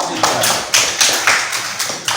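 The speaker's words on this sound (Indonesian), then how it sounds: "Kita tepuk tangan untuk kelompok 3." A small classroom group of students claps for a student group in a slow, rhythmic pattern of about seven loud, evenly spaced claps, close by.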